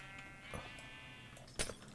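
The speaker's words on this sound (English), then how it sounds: "There's sheep." Sheep bleating inside the Minecraft video game, a couple of short bleats over a steady background hum of game sounds, the louder one near the end.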